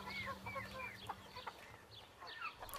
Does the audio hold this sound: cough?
no